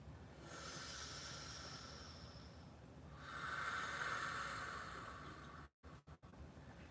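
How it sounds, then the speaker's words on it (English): Two slow, deep breaths during a yoga session, an airy inhale followed by a stronger, longer exhale, close and soft against a quiet room. "Let's take 2 deep belly breaths here"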